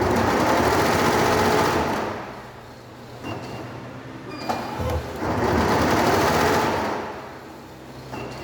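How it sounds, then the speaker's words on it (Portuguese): Embroidery machine stitching with needle 2 while its shuttle hook is being adjusted, a loud rapid mechanical clatter running in two bursts with a quieter lull between. "vamos ligar a máquina aí"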